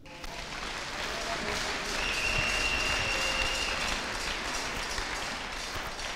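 Sustained applause from a congregation during a French-language church service, a dense steady clatter of clapping hands filling the space evenly for several seconds with no speech over it.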